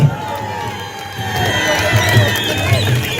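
Crowd at a BJP election campaign public meeting in Rajouri district cheering and clapping, a loud sustained roar with whistles and scattered shouts, voices mixed throughout.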